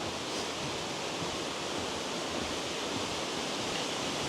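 Big waterfall on the main trail in Glenariff Forest Park, a steady broadband rush of falling water that holds even and continuous throughout, with no talk.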